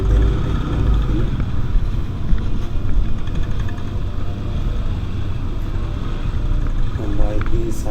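Motorcycle engines drone loud and close during a group ride on the road from Dharamsala to Sarchu in Ladakh, a steady rumble mixed with wind roar that carries on without a break.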